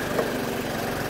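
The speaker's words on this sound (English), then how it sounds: "Warming the bike up here," A motorcycle idles while warming up, a steady low rumble with a faint lumpy pulse, fairly quiet and unbroken, with no voices.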